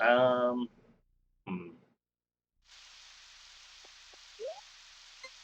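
Rain in the video game Harvest Moon 64 comes in as a steady, soft hiss after a short stretch of talk, continuing evenly with a few faint game blips over it.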